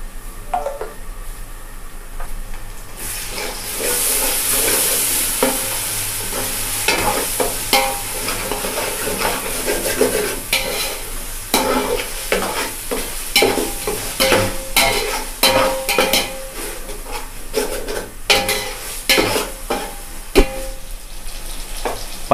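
Ginger garlic paste fries in a pan for mushroom biryani, giving a steady close sizzle broken by frequent scraping and stirring strokes.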